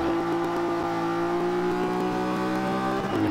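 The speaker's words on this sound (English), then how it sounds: "I'm revving it up now." A car's engine revs hard in Forza 5 during a B-class build, held high toward the redline on cold tires. A steady, loud drone with strong harmonics holds throughout, with no talking.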